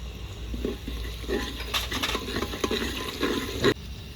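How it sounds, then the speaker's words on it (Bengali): Whole cloves, cardamom and cinnamon tossed into hot fried onions in a pan, giving a soft sizzle with stirring scrapes and a sharp clink of utensil against pot near the end. "পেঁয়াজ ভাজা হয়ে গেছে লং এলাচ জৈটি দারচিনি সবই আছে তো দিয়ে দিলাম"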